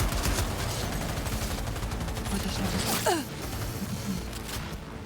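Sniper gunfire in Cyberpunk 2077 cracks out amid a dense, noisy game mix of continuous shots and effects, with a quick burst of movement sounds near the middle.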